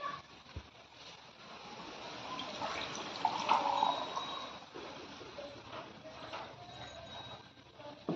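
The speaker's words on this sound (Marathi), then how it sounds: "आता मी दोन्ही ग्लासांमध्ये पाणी टाकतो" Water pours softly into two glass tumblers in a steady splashing trickle that swells in the middle, quiet and close, with no other sounds, during a simple science experiment.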